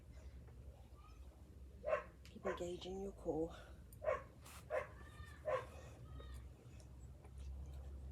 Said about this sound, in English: neighbour's dog's a bit barky